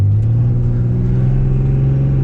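A tuned 2005 Cummins diesel pickup truck accelerates hard, its steady deep engine drone holding one rising gear throughout, loud and close with no voices.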